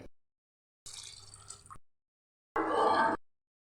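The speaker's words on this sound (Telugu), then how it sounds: "మూడు గ్లాసులో వాటర్ వేయాలి ఒక గ్లాసుకు ఒక గ్లాస్ అన్నర వాటర్ వేయాలి" Water poured into a cooking pot while making egg biryani, heard as two separate bursts of splashing pour, the second louder and fuller, with silence between.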